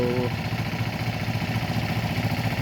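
The cold diesel engine of a screw chipper runs at a steady idle, a close, continuous low chugging clatter with a fast even pulse that holds unchanged throughout.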